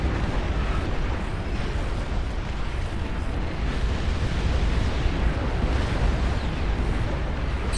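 Rockets explode in a large real-time strategy battle in Beyond All Reason, forming a continuous rumbling roar of overlapping blasts at steady loudness with no clear gaps.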